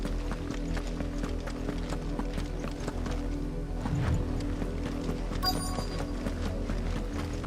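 Horse hooves clip-clop steadily while riding in the Final Fantasy 16 video game, with a rhythmic gait over continuous game music and ambience, and a brief whinny-like accent midway.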